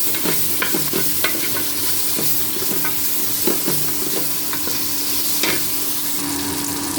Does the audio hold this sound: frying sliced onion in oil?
yes